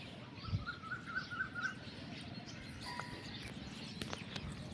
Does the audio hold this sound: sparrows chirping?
yes